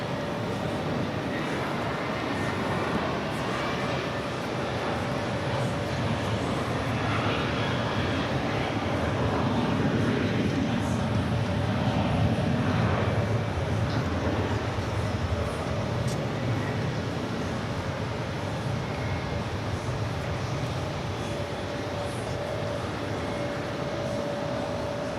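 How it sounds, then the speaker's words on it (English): A JetBlue Airbus A320 jet departing JFK for Tampa builds into a long, distant engine roar that swells toward the middle and then eases, a steady broadband rumble with little else on top. "JetBlue 2725 heading off to Tampa, Florida, A320"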